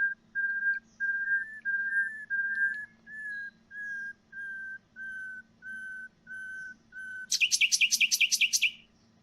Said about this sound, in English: nightingales are able to match the pitch of synthetic whistle playbacks across the entire production range.